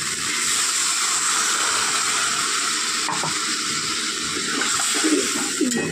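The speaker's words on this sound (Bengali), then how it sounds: "এবার পরিমাপ মতো জল দিয়ে দেব।" Water is poured into a pan of sizzling curry masala, a steady close hiss and rush of liquid with faint clinks, continuous for several seconds.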